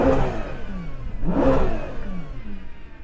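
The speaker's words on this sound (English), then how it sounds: "can you hear my car revving?" A hybrid SUV's engine revs up and down in a couple of rising and falling sweeps, loud and close, with a whining, supercharger-like tone and no talking.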